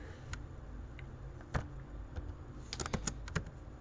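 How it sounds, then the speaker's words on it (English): Computer keyboard keys clatter in short, quiet bursts of typing while entering values in Excel, light close clicks over a faint room hum. "we're going to type in mean"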